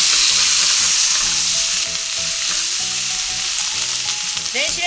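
Onions, softened first in a microwave, fry in a pan over medium heat, giving a steady, close sizzle throughout with a few faint clinks near the end.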